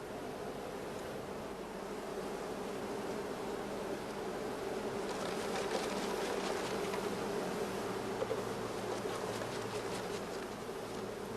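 A mass of honeybees being shaken into a swarm box gives a dense, continuous buzzing hum that swells slightly midway, steady and fairly close.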